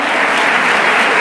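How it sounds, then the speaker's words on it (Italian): Applause for the podium at a national women's artistic gymnastics championship in Cattolica, Italy: a dense, loud, continuous crowd clapping that stays even for its whole length. "Facciamo un bel applauso al podio"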